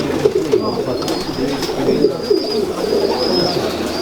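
Golden pigeons coo softly and repeatedly at close range, their low murmuring calls overlapping against a faint background hum.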